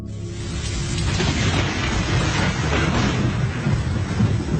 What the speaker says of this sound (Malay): bunyi guruh dan bunyi hujan yang begitu lebat pada malam yang dimaksudkan